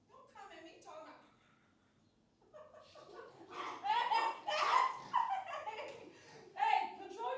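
An Australian Shepherd with degenerative myelopathy lets out yelping, excited barks close by, mixed with speech and laughter.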